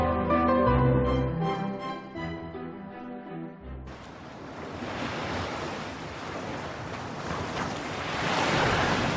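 Sea waves and wind at Tai Long Sai Wan beach, a loud steady wash of surf with gusting wind noise on the microphone. The surf builds into a continuous roar after a brief stretch of music at the start.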